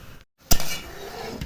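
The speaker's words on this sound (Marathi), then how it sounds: "आमटीला चांगली खळखळून उकळी आली आहे" A pot of shingori amti curry boils vigorously, with one sharp utensil clank near the start followed by a steady, close bubbling hiss and no voices.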